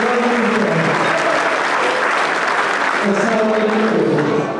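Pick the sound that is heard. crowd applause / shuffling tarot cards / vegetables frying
crowd applause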